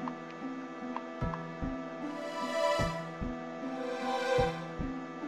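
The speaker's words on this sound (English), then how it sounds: "I guess he's panicking because you can hear a heartbeat." A steady heartbeat from the video game Final Fantasy 8, low paired thumps repeating at an even pace over a quiet ambient game backdrop, with no one talking.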